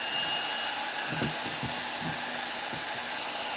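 Dremel rotary tool with a Kutzall burr carving into wood for a gnome house, a steady high whine running throughout with a few brief bursts of louder grinding contact in the middle.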